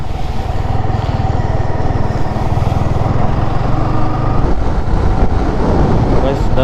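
A Yamaha motorcycle cruises along a highway toward Dharmapuri, its engine a steady, droning rumble blended with constant buffeting wind noise, holding an even level throughout with no voices.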